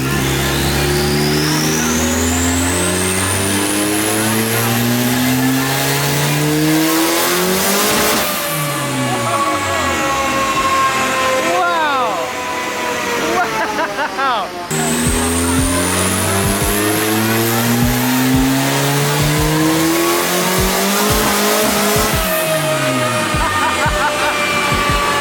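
A turbocharged Honda Civic screams on a dyno, the engine revving hard in long rising pulls with a brief lift between them, loud and close, with faint voices beneath.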